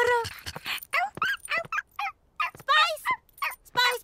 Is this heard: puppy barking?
yes